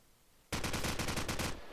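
Rapid gunfire in a Counter-Strike match, a loud burst of about ten quick, evenly spaced shots that starts abruptly after a quiet lead-in and stops cleanly, with no voices.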